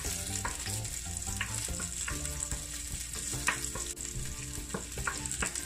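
Ginger, onion and garlic sauté in a pan for Jamaican-style Chinese fried rice. A steady close sizzle runs throughout with occasional stirring clicks, under a sustained tonal background.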